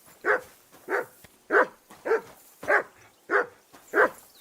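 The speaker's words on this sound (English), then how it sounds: "Call off that damn dog before he wolfs down the last of our mates." Seven evenly spaced, loud barks from a dog in the medieval role-playing game Kingdom Come: Deliverance 2, each sharp bark sounding alone at a steady rhythm with no talk in between.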